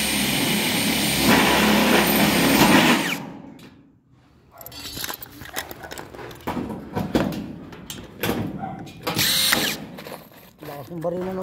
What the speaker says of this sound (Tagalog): Lakas ng barino ng maliit na. Portable idol ah.